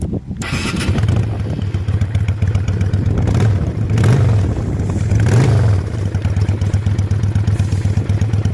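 A Honda Steed 600cc custom motorcycle engine rumbles close by with a steady low idle, blipped up twice into brief throaty revs before settling back down.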